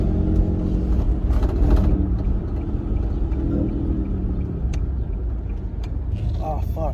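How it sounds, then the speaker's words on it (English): An Infiniti G37's engine rumbles low and rough in a continuous, raspy drone from an exhaust leak, heard steadily from inside the moving car. "The exhaust leak is so bad, so freaking bad."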